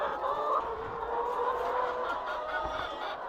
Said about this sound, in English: If you get that sound, that is the sound of the layers.